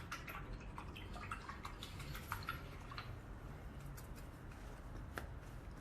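A paintbrush swished and tapped in a water cup during an acrylic painting of a monstera leaf, giving soft, close dripping and clinking ticks scattered throughout, with no talking.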